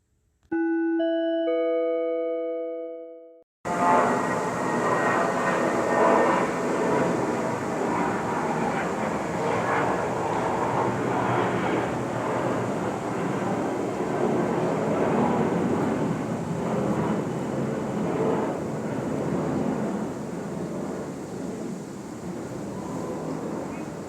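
A plane flying near Ontario International Airport, a steady, broad engine roar that holds for about twenty seconds after a short two-tone chime at the start, with no talking.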